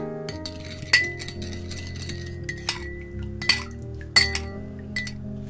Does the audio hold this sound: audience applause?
no